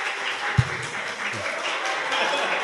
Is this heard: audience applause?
yes